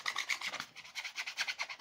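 A credit card scraped firmly across a heated wrap to make it stick, quick rhythmic rasping strokes repeating close up and fairly quiet.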